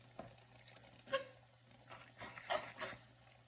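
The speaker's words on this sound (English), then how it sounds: "So add more water." Water is poured into a pot of cooking jollof rice, giving soft, faint splashes and pattering in a few short bursts, with no talking.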